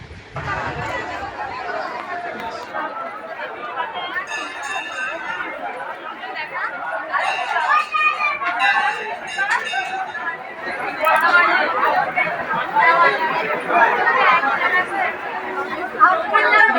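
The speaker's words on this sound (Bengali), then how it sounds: "ভেতরটা এত প্রচণ্ড ভিড় হয়েছে ভেতরে" Dense chatter of a large crowd packed inside a temple on the last Monday of Shravan, many overlapping voices forming a steady, close hubbub that swells slightly louder toward the end.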